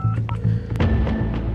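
A telephone is dialed to call police, a quick series of touch-tone key beeps close by over a low hum and faint background murmur.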